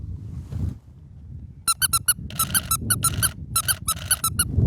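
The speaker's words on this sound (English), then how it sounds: "I showed you my squeaker out as well, which I can put in my mouth" A dog photographer's squeaker toy, held in the mouth, squeaks in a series of sharp, close bursts, first two short ones then longer rapid clusters, over a low rumbling outdoor background.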